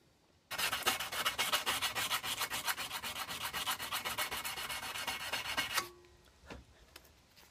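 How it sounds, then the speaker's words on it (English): Knife parts are ground smooth on a belt grinder: a loud, steady abrasive rasp with a rapid pulsing rhythm that runs for about five seconds, then stops abruptly, leaving faint scraping and handling noises. "So I cleaned these up on the belt grinder."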